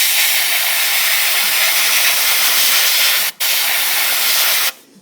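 An airbrush blowing a steady stream of air to dry custom flame paint on a Dodge Magnum, a loud continuous hiss with a brief dropout near the end and another cutoff just before it stops.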